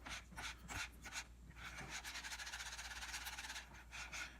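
A thick gelli plate mixture is stirred and agitated in a container, giving faint, continuous scraping and swishing strokes in a quick repeating rhythm.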